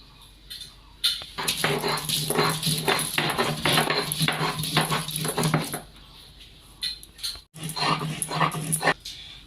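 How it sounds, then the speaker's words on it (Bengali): Onion and garlic are ground together on a traditional grinding stone, giving a loud, rough scraping and rubbing in rapid rhythmic strokes that pause briefly before resuming. "পেঁয়াজটাকে বেটে নেব। আর 4টি রসুনের কোয়া নিয়েছি, একসঙ্গে বেটে নেব।"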